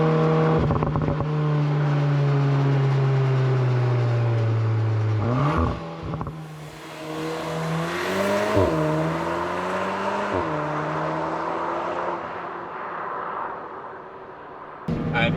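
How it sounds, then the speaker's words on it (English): A Mk8 VW Golf R fitted with a Milltek exhaust revs close by, a droning note rising steadily before sharp blips and a climbing rev, then settling with pops and crackles as it fades. "We've actually got some nice exhaust sounds to sort of back up all that performance as well."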